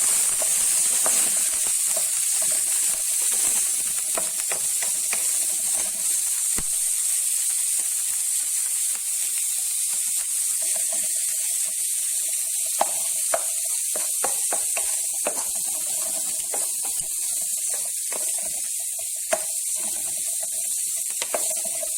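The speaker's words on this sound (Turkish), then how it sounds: "2 yemek kaşığı kadar zeytinyağı koydum. Hemen soğanımı güzelce karamelize ettim." Onions frying in olive oil until caramelized give a steady, close sizzle with scattered small crackles and pops that carries on without pause.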